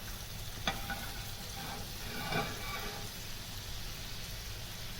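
Chicken tikka frying in an oven-free pan on the stove, giving a steady, close hiss of sizzling oil with a few faint crackles and pops, no talk over it.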